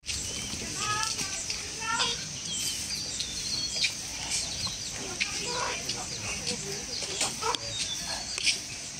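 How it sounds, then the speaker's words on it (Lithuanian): Chickens cluck and squawk while being carried in a rural yard, their calls steady and fairly close, with voices talking in the background. "Tai taip nešiojamos vištos."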